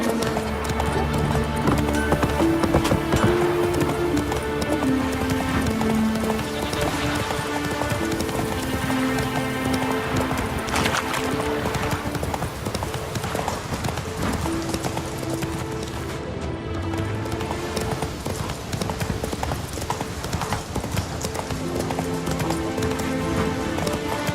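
Roach the horse in The Witcher 3 gallops steadily, hooves pounding in a continuous rapid clip-clop rhythm with an occasional whinny, sustained throughout the stretch.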